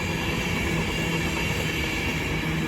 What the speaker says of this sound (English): 1205 LNER service from Leeds to London King's Cross, being worked by a 225 set